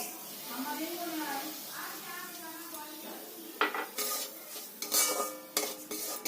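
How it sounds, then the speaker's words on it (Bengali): Semolina being roasted over low gas in a pan, with a utensil stirring and scraping against the metal in irregular clinks and scuffs, heard close while a voice speaks over it. "সুজিটা একটু ভাজা ভাজা করে নিতে হবে"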